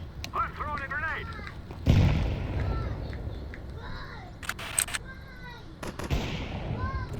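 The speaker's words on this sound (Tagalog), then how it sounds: "I'm throwing a grenade." A grenade thrown in Counter-Strike during a 5v5 match, with a loud blast and scattered gunfire shots amid game noise, while voices talk over the action.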